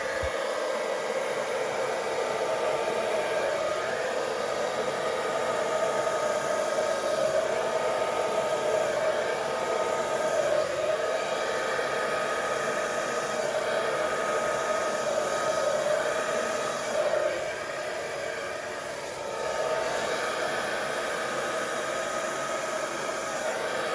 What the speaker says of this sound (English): I'm going to blow this out with the hairdryer